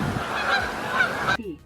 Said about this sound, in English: It is just buzzing with geese right now.